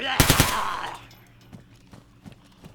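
Automatic rifle fire in the video game DayZ, from a weapon loaded with a 60-round STANAG magazine: a loud, rapid burst of several shots right at the start, then quieter scattered clicks and thuds.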